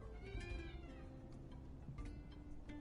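A house cat meows indoors, several drawn-out calls close to the microphone over a constant low background hum.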